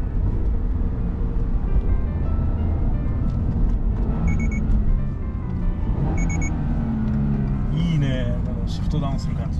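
A cheap used Mercedes-Benz engine drones and rumbles as it accelerates, then blips through a downshift, heard from inside the car with short electronic chimes and people talking over the engine.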